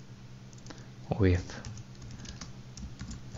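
Light clicks of a computer keyboard being typed on sound softly beneath a voice, close and quiet.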